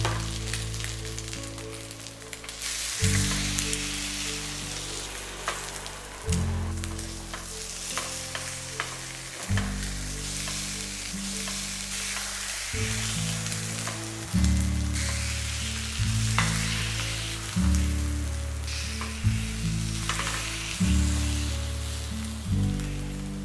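A flipped vegetable egg omelet with coriander leaves sizzles steadily in a pan, a close, continuous frying crackle with occasional scraping and stirring noises, no voices.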